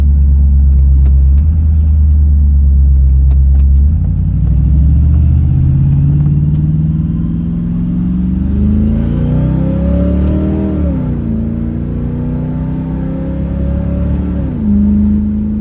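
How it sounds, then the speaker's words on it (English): Chevrolet S10 truck engine with the exhaust cut off, running loud and close with a deep, rough rumble that rises as it revs and accelerates, then settles and surges again, with no talking. "it sounds better because I hacked off the exhaust."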